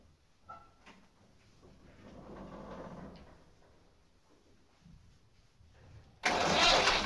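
Massey Ferguson 135 tractor being cold started: faint turning and clunking sounds build quietly, then a sudden loud, rough burst of engine noise at the end.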